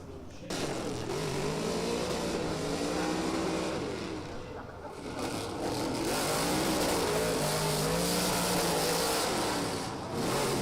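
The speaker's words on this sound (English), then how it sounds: "As Shahani picks up the throttle once again, big clutch kick, just about keeps the back end in the zone" A drift car's engine at full throttle during an international drift qualification run in Oman, a loud sustained rasping roar that dips briefly and surges again, heard over crowd noise with commentary voices faintly mixed in.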